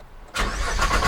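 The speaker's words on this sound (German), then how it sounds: "Wenn ich jetzt den Motor starten würde" After a brief quiet moment, a Nissan GT-R R35 engine with downpipes and intakes cranks and fires up abruptly, settling into a loud, throaty rumble.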